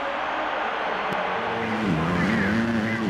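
A motocross bike roars around the NRG Stadium track in Houston in Monster Energy Supercross 2, its engine whining continuously and sliding up and down in pitch as the rider works the throttle.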